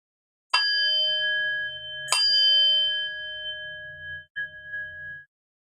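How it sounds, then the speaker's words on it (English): A meditation bell is struck twice, each strike ringing out clear and sustained and overlapping the previous tone, then a faint third touch before the resonance fades. "Then I'll ring the bell 3 times at the end."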